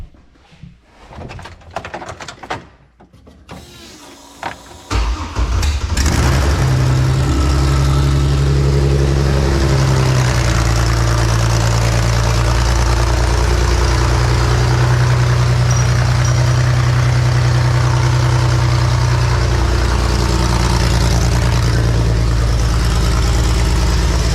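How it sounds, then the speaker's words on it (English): A battered demolition derby GMC Envoy is cranked until its engine catches and roars to life, then settles into a loud, steady, rough idle held close by for the rest of the stretch. "It'll actually fire up."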